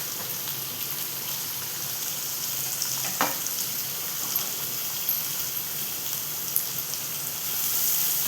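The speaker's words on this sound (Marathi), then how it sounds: "आता आपण त्यात टाकतो चिरलेला कांदा." Chopped onion fries in a pan for a wild-vegetable dish, making a continuous hissing sizzle with one distinct spatula scrape midway and faint crackles throughout.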